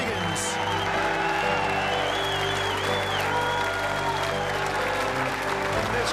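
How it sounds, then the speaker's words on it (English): A snooker crowd at the Crucible Theatre gives a standing ovation after the World Championship final, steady loud applause filling the whole stretch. "This Crucible crowd give him a standing ovation."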